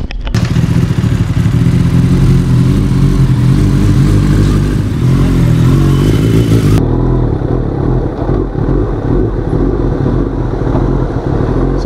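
A 2020 Kawasaki Ninja ZX10R rumbles loudly through its exhaust while being ridden, a deep continuous engine roar close by that shifts tone partway through as the throttle changes.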